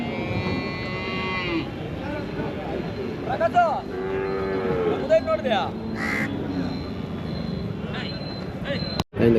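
Cattle at the Anthiyur cattle market, with several short lowing moos and calves' calls near and mid-distance, partly under a man's speech and busy market noise, ending with a sharp knock.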